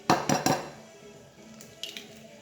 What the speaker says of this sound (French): Je vais casser les œufs.